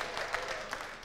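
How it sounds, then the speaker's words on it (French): An audience applauds a musician and his band after their performance, a brief, faint burst of clapping from a small crowd at a distance. "Allez, on les acclame, c'était extraordinaire."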